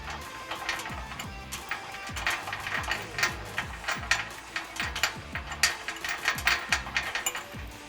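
Rapid ratchet clicking in steady bursts as a lock nut and washer are run onto a running board bracket on a 2019-2022 Chevrolet Silverado or GMC Sierra 1500 pickup, close and fairly loud with no talking.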